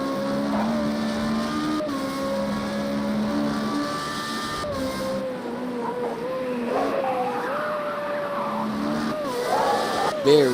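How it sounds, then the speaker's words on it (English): A Formula Renault-style single-seater race car squeals its tyres through corners at Oulton Park, an onboard engine drone rising and falling with repeated sustained tire squeals layered over it, loud and close. "You can hear the tires complaining"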